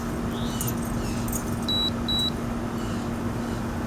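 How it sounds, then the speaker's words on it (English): A window air conditioner emits two short, high electronic beeps in quick succession, over a steady low hum and background noise. "It only beeps twice"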